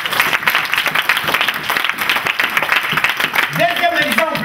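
Church congregation applauding: dense, rapid clapping sustained throughout at a fairly loud level, with a voice rising over the applause near the end.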